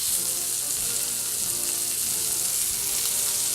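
A burger patty sizzles steadily in a pan heated to 400 degrees, a loud continuous hiss and crackle of frying with no talk over it.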